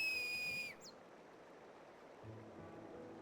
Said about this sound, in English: this is where he taught her to whistle?